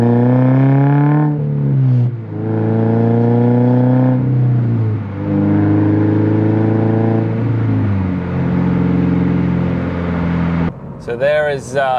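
A Subaru BRZ fitted with an axleback exhaust pulls hard from second gear up to fifth, its engine note rising steadily and dipping at each shift, loud and close from inside the car.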